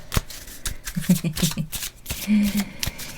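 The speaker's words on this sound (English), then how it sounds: "I'll shuffle the cards." Cards are shuffled close up in quick riffling bursts and soft flutters, with a few sharp taps between them.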